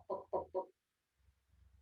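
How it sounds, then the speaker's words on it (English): Three quick clucking bursts from a chicken or rooster, fairly close and clear, followed by silence and then a faint low rumble of background noise. "little more carrying chicken noises"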